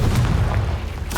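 A Confringo blasting spell in the Hogwarts Legacy video game lands as one deep, rumbling boom that rolls on for about a second, loud and close with no talking.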